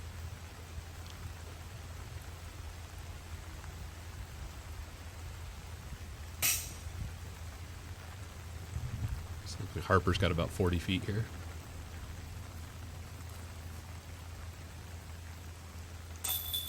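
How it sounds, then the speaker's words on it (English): Steady rain and wind hiss across a golf course during a round of the Augusta Classic, with someone commenting in the middle and a few brief louder knocks. "With the rain and the wind."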